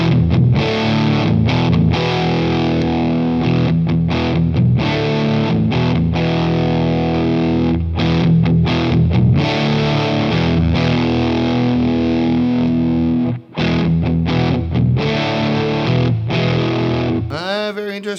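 An electric guitar plays through an EarthQuaker Special Cranker overdrive pedal into a Boss Katana amp, with dense, sustained, distorted chords and riffs chopped by quick rhythmic gaps. The whole passage stays loud, with one brief dropout near the end.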